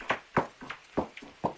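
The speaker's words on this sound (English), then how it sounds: "And this is a noctule." Noctule bat echolocation through a bat detector, a slow, irregular beat of loud, wet, smacking pulses, about six in quick succession, close and distinct.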